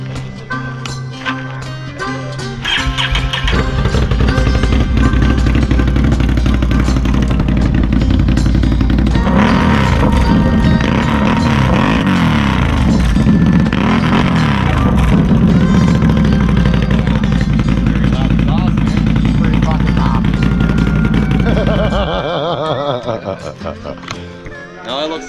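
A dirt bike engine on a trail-tire test ride starts up and runs at a loud, steady idle for about twenty seconds before cutting off, with people talking nearby.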